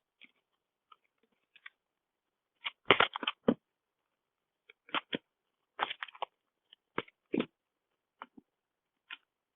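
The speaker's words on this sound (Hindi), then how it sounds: "So let's shuffle the cards." Tarot cards are shuffled by hand in short bursts of riffling and tapping, quiet and close, with brief flicks separated by silent pauses.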